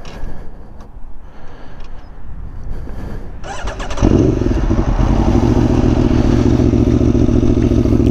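A 2017 Aprilia Tuono V4 1100 RR motorcycle engine with a Graves exhaust starts with a clatter, then settles into a loud, deep, steady rumbling idle close by.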